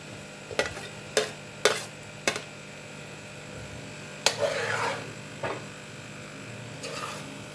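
Okra is added to cooked beef in a pan and stirred, giving a series of sharp spoon scrapes and knocks followed by a longer burst of sizzling stirring and a few softer scrapes, with no voices.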